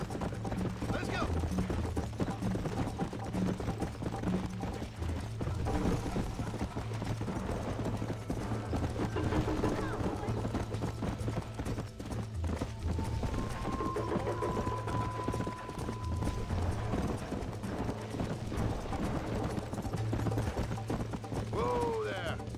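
Horse hooves gallop in a steady, rapid clip-clop rhythm during a ride in the video game Red Dead Redemption, continuous and fairly close, with faint voices and game sounds underneath.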